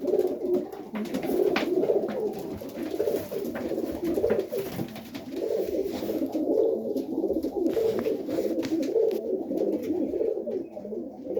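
Pigeons coo continuously in soft, rolling, overlapping calls, fairly close, on a frosty day of feeding before high winds and rain, with faint clatter and movement in the background.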